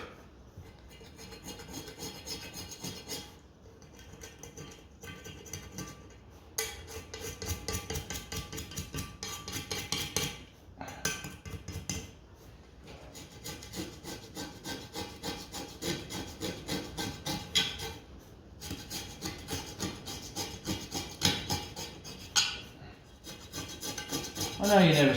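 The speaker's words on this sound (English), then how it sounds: "It's quite rusty, look. But you can scrape a lot of it with the blade." A blade scraping rust off a Bedford CA camper dashboard clock part, producing repeated rough rasping strokes close up, steady bursts with brief pauses over about twenty-five seconds and no talking over it.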